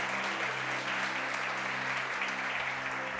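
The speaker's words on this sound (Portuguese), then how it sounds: "Você pode aplaudir ao Senhor por essa palavra?" A church congregation bursts into sustained applause, a dense wash of many hands clapping together at steady volume with no talking over it.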